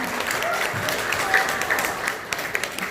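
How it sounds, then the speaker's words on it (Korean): A seminar audience applauds at the opening of the event, with steady, dense clapping filling the whole stretch evenly. "자, 박수 한 번 부탁드리겠습니다."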